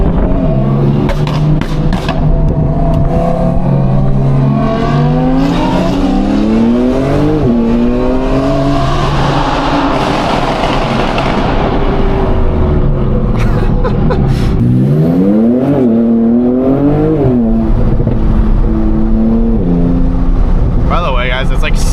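An Audi R8 fitted with an F1-style exhaust revs hard in repeated loud, rising bursts that drop back between pulls, a close and continuous engine roar with people talking over it.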